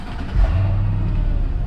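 A supercharged V8 in a Mercedes E55 AMG Kompressor estate fires up warm, catching with a short bump and settling straight into a deep, steady idle rumble close by, with no pops or crackle.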